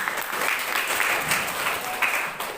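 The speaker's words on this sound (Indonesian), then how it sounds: "Tepuk tangan untuk kita semua." Dense, steady applause fills an Indonesian digital literacy seminar hall, loud and continuous throughout, with a faint murmur of voices beneath.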